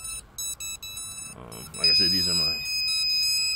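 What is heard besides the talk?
alarm beeps from Turnigy Plush ESCs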